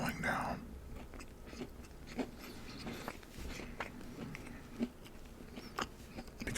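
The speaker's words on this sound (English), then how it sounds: "You can probably hear my chewing slowing down." Popeye's biscuits being chewed close to the mic, soft crunchy bites repeating in a slowing rhythm with faint mouth sounds and no talking.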